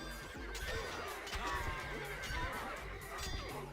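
In a multiplayer strategy battle game featuring pikemen and horse archers, horses whinny and neigh several times close up over a dense din of combat.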